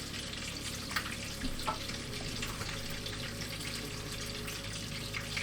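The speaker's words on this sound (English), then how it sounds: "Hopefully the microphone is picking up the very nice, gentle sizzling sounds." Chicken katsu frying in oil in a pan, giving a steady, even sizzle that holds throughout at moderate level.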